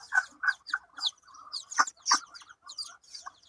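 Chickens on a rooftop farm cluck in a quick series of short, close calls, with a few sharper squawks mixed in against an otherwise quiet background.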